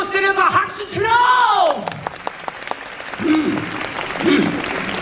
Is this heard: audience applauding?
yes